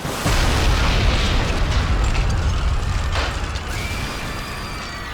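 A large explosion erupts in a video game cutscene, a sustained low rumbling roar with crackling debris that fills the whole stretch and slowly fades, heard alone without speech.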